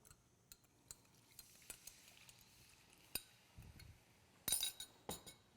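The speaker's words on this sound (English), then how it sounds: "Just stir it in." Sugar water is stirred into cooked, browned wheat flour for a Persian dish, giving quiet scraping with scattered utensil clinks and taps against the bowl, soft and close.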